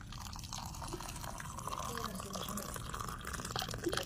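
Hot water poured into a drinking glass to make blue ternate flower tea, a bubbling, trickling fill with a rising liquid tone, close up and continuous over about four seconds, with faint background noise.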